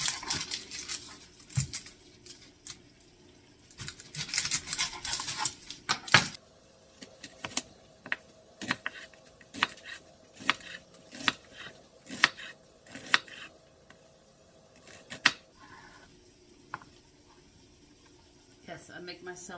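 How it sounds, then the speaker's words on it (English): A knife chopping yellow onion and garlic on a board, with brisk irregular taps in quick bursts, close and fairly soft, while a person talks over the first part. "chop up one whole yellow onion and about 3 garlic cloves"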